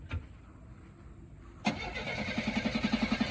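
Cutlass car engine with a few problems cranking and catching, a click and brief whir, then a starter burst that settles into a rhythmic, pulsing run, fairly faint and close.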